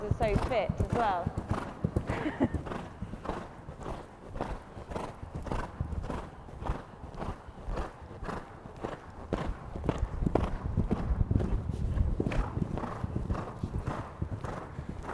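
Horses' hooves clip-clop steadily across an arena during a show-jumping masterclass, a rapid even rhythm of close hoofbeats throughout, with a whinny near the start and a voice talking over them.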